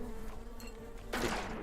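Insects buzz steadily around a hive in the Secrets of Grindea game, a continuous droning hum that swells into a louder, brighter burst near the end.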